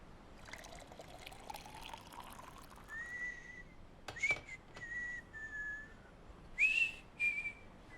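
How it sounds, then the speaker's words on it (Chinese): A man whistles short, wavering tunes in bursts while drinking water, with faint gulps and liquid sounds between the notes, quiet and close in an indoor room. "边吹口哨边喝水，你小心呛死！"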